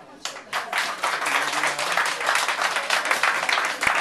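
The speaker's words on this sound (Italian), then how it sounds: "si entra al centro della pista per ricevere giustamente l'applauso conseguenziale" Audience clapping for a contestant entering the center of the floor at a Halloween mask contest, a lively, close burst of many hands that holds steady for about four seconds with some voices mixed in.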